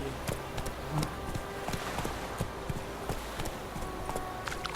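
Roach the horse galloping in The Witcher 3: Wild Hunt, a steady rapid clip-clop of hooves running through the whole stretch over a busy background of game ambience.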